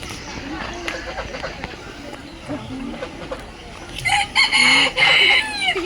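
A chicken clucks in a bird enclosure beside ducks and a goat, and a rooster-like call rises loudly near the end, with people talking nearby through most of it.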